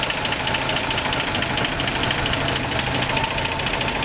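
A 1953 Ford two-door's engine runs steadily at idle, a close, continuous mechanical hum with even vibration and no voices.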